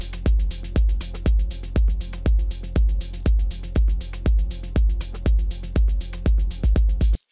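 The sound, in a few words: melodic techno drums and hats playing together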